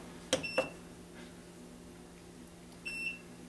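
A wheel balancer machine gives short electronic beeps: two quick ones close together, then a longer beep after a pause, faint in a quiet workshop.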